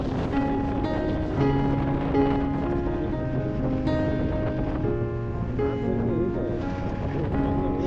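Strong wind roars steadily against the microphone while a motorbike rides on a Himalayan road, a loud continuous rushing blast with faint tonal hum underneath and no clear breaks.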